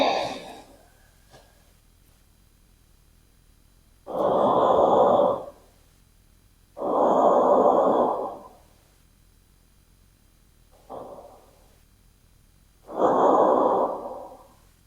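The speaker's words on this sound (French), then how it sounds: "on reste ici pour 3 profondes respirations" Slow, deep breaths during a yoga session, four or five long airy exhalations spaced a few seconds apart, close and clear with quiet stillness between them.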